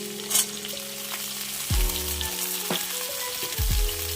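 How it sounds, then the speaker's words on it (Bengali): Potatoes frying in a pan with asafoetida for a vegetarian dish, a steady close sizzle with scraping stirs and clanks of a utensil against the pan. "আলুটা হালকা ভাজা ভাজা হলে আমি পটলটা দিয়ে দেবো"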